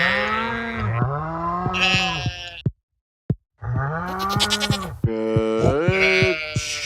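Sheep in the Stardew Valley farming video game bleat in several loud, wavering calls, with a short silent gap in the middle before more overlapping bleats resume.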